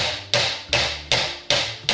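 A hammer strikes a BMW automatic transmission part in a garage, five hard metallic blows landing at an even rhythm about every 0.4 seconds. The impacts are close and loud, with no talking between them.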